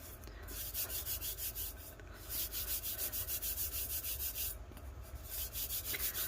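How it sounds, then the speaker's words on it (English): A hand burnishes a foil leafing sheet onto a woodgrain tumbler, giving a steady rhythmic rubbing and scrubbing with repeated short strokes and brief pauses, close and fairly quiet, with no talk. "I'm just going to use my hand to burnish it at this point."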